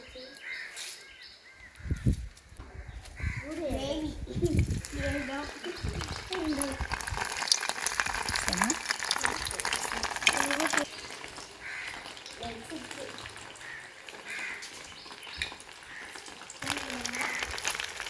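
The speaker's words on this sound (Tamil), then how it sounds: "இப்போ பெரட்டி வச்சதெல்லாம் பொரிச்சு எடுக்க போகிறோம்." Masala-coated eggs fry in hot oil outdoors in a village kitchen, a steady broadband sizzle that swells after the first few seconds and runs throughout, with crows cawing nearby and voices occasionally talking over it.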